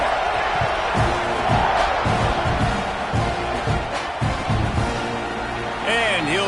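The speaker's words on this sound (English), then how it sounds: "this crowd is buzzing after that last score" A stadium crowd at an NCAA college football game involving Alabama buzzes and murmurs just after a touchdown, a steady dense roar with scattered whoops and shouts swelling throughout, while a commentator's voice runs over it.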